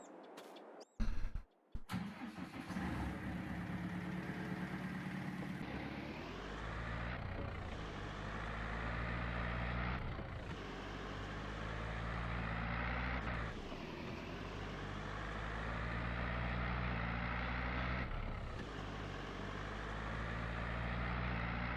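A tractor engine in Farming Simulator 22 drones continuously with low harmonic tones, swelling and dipping in pitch as it labours under load, close and loud throughout.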